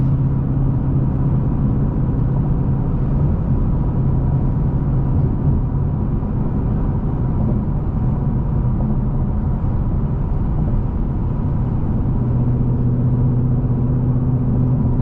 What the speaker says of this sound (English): these aftermarket long tube headers and full exhaust, they wake the car up so much more